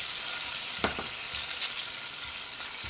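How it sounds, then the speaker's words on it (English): Guanciale sizzling in a pan for pasta carbonara, a steady bright crackling hiss with a few soft clinks of stirring, close and continuous with no voices. "Our guanciale is sizzling right now."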